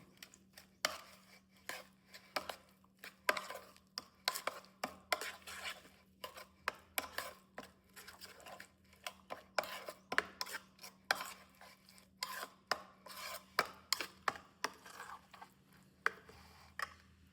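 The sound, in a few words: mixing tomato chutney with a spoon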